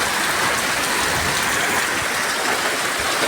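Morning rain falls steadily outdoors as an even, dense hiss of drops that stays constant throughout, with no voices.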